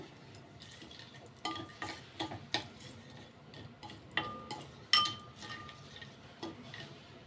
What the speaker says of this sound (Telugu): కొంచెం సాజీరా, 4-5 లవంగాలు ఇవి వేసుకుని ఇవి కొంచెం వేగనిద్దామండి.